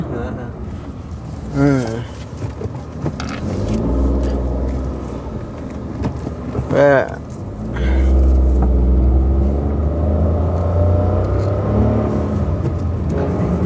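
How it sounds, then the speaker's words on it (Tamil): A car drives through water, its engine rumbling as a long wash of splashing and surging water builds and holds, while people talk over it. "எங்கட கார் தண்ணிலாம் ஓடுதான்"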